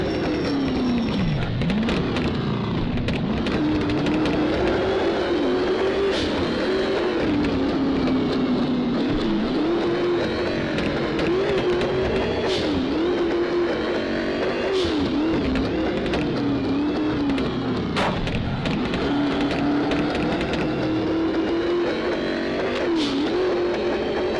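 A car engine in the VR driving game Drive revs continuously and loudly for the whole stretch, its pitch rising and falling as the throttle is eased on and off, with occasional clicks and bumps.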